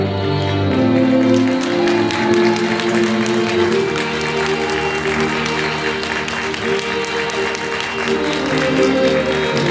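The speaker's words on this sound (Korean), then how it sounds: "신부의 입장이 끝나는 순간까지 큰 박수와 환호로 신부를 축하해 주시기 바랍니다" Sustained applause fills a wedding hall as the bride enters, steady and loud from a crowd throughout, with faint background voices mixed in.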